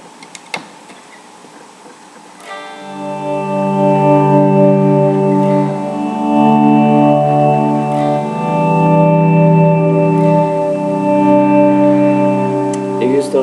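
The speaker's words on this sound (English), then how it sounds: "For my synths, I use a RV5 and a custom compressor." Electric guitar synth-style pad shaped by an RV5 reverb and a custom compressor: a soft swell from near silence into sustained, layered tones that morph slowly over several seconds, full and washy, with no voice over it.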